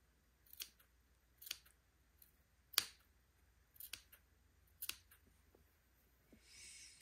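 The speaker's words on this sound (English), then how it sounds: "Just clip your notches without cutting your seam that you just sewed." Scissors clip notches into a fabric seam allowance on a batiste baby bonnet neckband, five or six crisp, separate snips spaced about a second apart, close and quiet with no speech.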